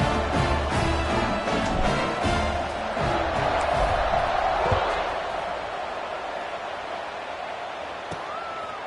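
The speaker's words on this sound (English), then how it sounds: "this crowd is buzzing after that last score" Football stadium crowd at a Wyoming game, buzzing after a score: a dense, steady roar of many voices with scattered shouts and cheers, fading slightly toward the end.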